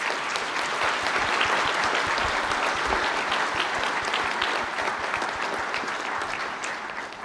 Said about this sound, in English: Can I ask the graduates of the Bachelor of Arts Honours in Heritage Studies to stand and receive your applause.